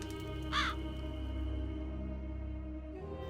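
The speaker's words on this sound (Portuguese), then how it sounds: "inclusive um corvo que sobrevoa o local." A single crow gives one short, harsh caw from a Witcher scene, flying over a burning bathhouse, set against a low, steady ambient drone.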